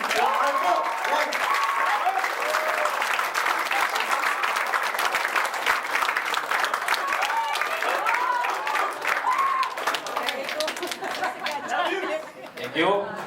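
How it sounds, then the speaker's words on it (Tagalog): Sustained audience applause fills a dealers' orientation hall, dense and steady, with crowd chatter and a voice talking over the clapping throughout. "Palakpakan niyo po ang speaker natin for today."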